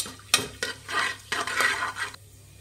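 Whole spices, star anise, marathi moggu and fennel, fry briefly in oil while a spoon scrapes and stirs the pan, giving a few sharp knocks and a soft sizzle, close and without talk.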